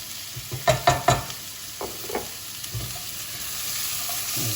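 Ingredients for katsu curry sauté in a hot pan, a steady sizzle broken by several sharp scraping stirs early on and softer utensil knocks afterward, close and without voices.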